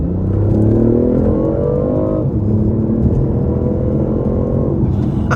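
A 2019 BMW i8 hybrid sports car accelerates hard, its engine a loud, continuous droning rumble with pitch climbing steadily through two rising sweeps, broken by a brief shift, heard from inside the car with no talking.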